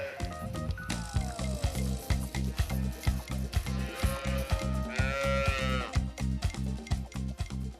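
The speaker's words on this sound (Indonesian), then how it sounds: "yang di bagian sini adalah anak-anak sapi jantan" Dairy calves moo repeatedly in a cattle pen, several drawn-out, wavering calls rising over a constant low rhythmic mechanical thumping from nearby farm machinery, fairly loud and close throughout.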